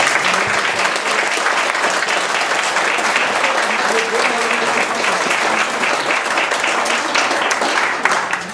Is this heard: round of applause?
yes